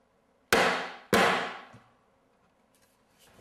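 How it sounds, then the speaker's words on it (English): Two sharp hammer smacks drive a piece of crown molding tight into a room corner, loud close cracks about half a second apart, each ringing briefly before fading into quiet. "probably give it a good smack with my hammer just to tighten this all up"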